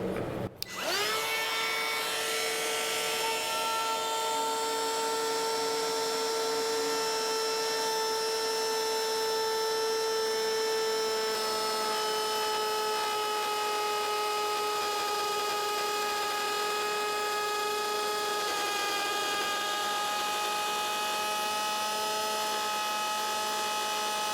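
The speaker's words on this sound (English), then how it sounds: "So we'll just cut these two in and go easy, go slow, and then we can run our other router around and put our bevel edge on." A woodworking router cutting slots for flat bar into wood, a steady high whine that holds for the whole stretch after a sharp start, loud and close with a constant motor tone.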